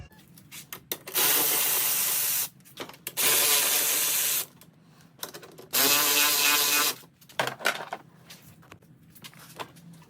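Bolts come off a 2006 Honda Ruckus scooter in three separate bursts of loud, rough spinning and ratcheting, each lasting about a second, with quiet handling noises between them.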